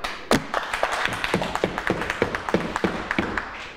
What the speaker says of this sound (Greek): Χειροκράτημα!